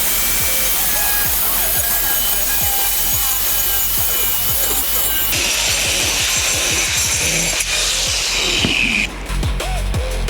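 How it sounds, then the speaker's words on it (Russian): Angle grinder cutting through an acoustic wall panel, a steady abrasive grinding and rasping close up, with gritty scraping texture that shifts and brightens partway through, continuing without talk. "Пробуем резать болгаркой, посмотрим, какой рез у нас получится."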